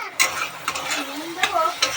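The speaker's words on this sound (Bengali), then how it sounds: "ঘি, সাদা তেল, গোটা গরম মশলা দিয়ে এখন গাজরগুলো ভাজছে" Carrots sizzle steadily in hot ghee and oil with whole spices while a utensil stirs and scrapes through them, close up.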